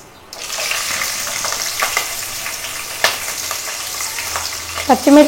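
Green chillies and chana dal sizzle and crackle steadily in tempering oil in a pan as they are stirred, with a few sharper pops and a brief metallic scrape at the end.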